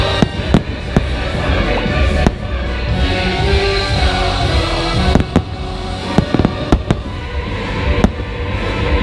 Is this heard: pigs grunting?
no